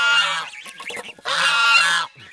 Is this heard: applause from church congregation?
no